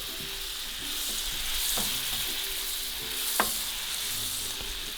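Butter melting on a 1.5 kg bone-in rib steak in a hot pan makes a steady, loud sizzle and hiss throughout, with a couple of faint clicks from utensils.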